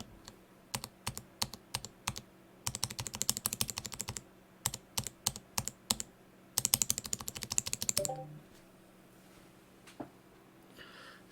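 Mechanical keyboard clicks from JWK T1 switches, tapped individually in sparse bursts and then in fast rattling runs during a keycap test, crisp and close with a brief low thump near the end.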